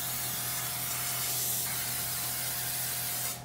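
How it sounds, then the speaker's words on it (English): Regular cooking spray hisses steadily from an aerosol can onto a baking pan, one continuous close spray lasting a few seconds before cutting off. "I'm just using just regular cooking spray, the one that I got from Costco"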